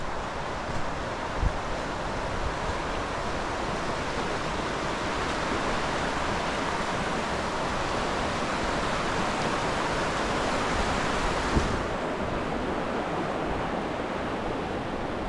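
A river in Jotunheimen, Norway rushes under a bridge, producing a broad, steady roar of flowing water that continues unbroken, fairly loud and close.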